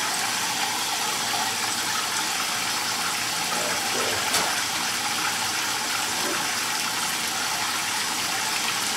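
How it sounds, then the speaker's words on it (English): A kitchen tap runs water to warm it up for activating bread yeast, giving a continuous, close, steady rushing gush with no pauses. "And run that water a bit and let it get warm."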